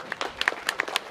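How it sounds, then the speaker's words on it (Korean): Scattered clapping from an audience at a national writing contest held at Chiljangsa temple, a few distinct, sharp claps close by in an irregular rhythm, fairly faint and brief. "다시 한번 큰 박수 부탁드리겠습니다."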